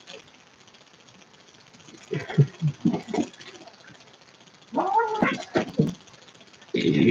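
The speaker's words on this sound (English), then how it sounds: "Sounds like two cats fighting, but they're not actually fighting." Two house cats playing roughly yowl and growl in bursts that sound like a fight, the loud caterwauling coming in two or three separate outbursts over faint background hum, fairly close.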